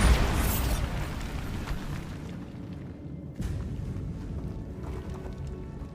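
The Bombarda explosion spell from the Hogwarts Legacy video game goes off in a loud, rumbling burst at the start, then a second, smaller blast follows midway as the echoes fade out.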